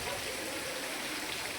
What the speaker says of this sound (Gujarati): આ તો ભૂકા કાઢી નાખ્યા વરસાદે.